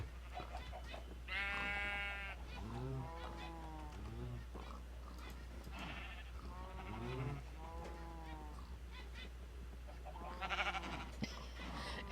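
Sheep bleating in a video game, a series of repeated wavering bleats from several animals, close and clear, spread across the whole stretch over a steady low hum, with no talking.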